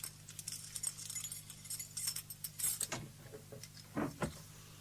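Skeleton keys jangling in a horror audio drama, a faint close metallic rattle and clink in short bursts, with a few sharper jingles toward the end and no talk.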